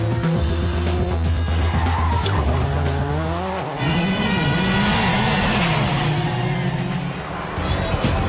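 Rally cars from the 2003 World Rally Championship race on wide tarmac roads in Spain: a close, loud engine howl with shifting revs, gear changes and tire squeal through corners.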